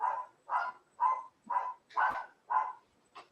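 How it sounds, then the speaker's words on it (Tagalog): A dog barks about seven times in a steady, evenly spaced run, with sharp, mid-pitched barks at moderate distance and no talking over them. "Sorry ha, maingay mga aso ko."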